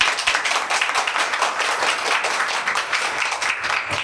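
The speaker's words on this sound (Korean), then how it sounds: "여러분들 환영의 박수 한번 치고 하시죠" A room of union members applauds to welcome everyone at the opening of a national public servants' union election policy debate, with brisk, continuous clapping from many hands throughout.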